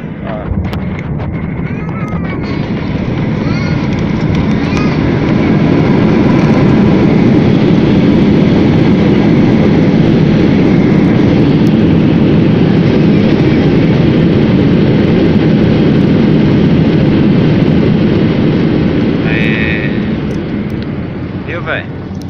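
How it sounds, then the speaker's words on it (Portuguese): A GOL Airbus airliner lands at Congonhas airport, heard as a loud sustained roar of engine and rushing-air noise that swells and then eases off, with voices talking over it. "Nós já estamos pousando no aeroporto internacional na pista agora."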